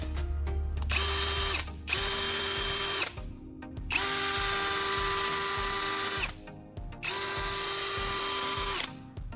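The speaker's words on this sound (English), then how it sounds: "When the second battery is installed, the drill works perfectly fine." A cordless power drill fitted with its second battery runs in three long, steady whirring bursts separated by short pauses, loud and close, with no one talking.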